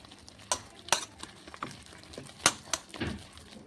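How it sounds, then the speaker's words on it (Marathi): Dal batter for dahi vada being whisked by hand in one direction in a bowl, giving a few sharp, irregular knocks and scraping strokes at close range against a quiet background with no talking. "त्याला एकच डायरेक्शनने असं फेटायचं आहे"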